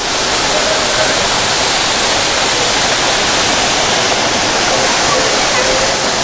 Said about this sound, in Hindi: मृयुबंधा वाटरफॉल। वाह बहुत खूबसूरत है।